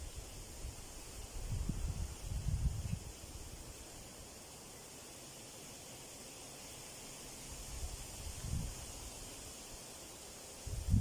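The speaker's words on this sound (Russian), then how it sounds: "О, какой ветер-то дует." Wind blowing outdoors as a faint, steady rustling hiss, with a few soft low gusts buffeting through; no one speaks.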